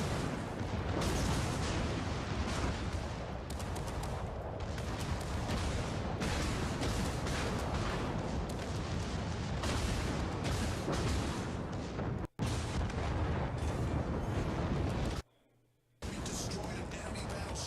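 Naval gunfire and explosions from the World of Warships game form a dense, continuous barrage of booms and blasts, broken by two brief near-silent gaps, with voices talking throughout.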